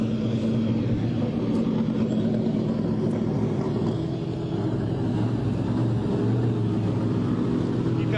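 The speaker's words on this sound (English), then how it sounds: "Pulling in the actual Trans Am cars from back in the day." Historic Trans Am race cars from the 2020 SVRA event at Sebring idle and roll in with a steady, loud engine rumble that fills the whole stretch, while people talk over it.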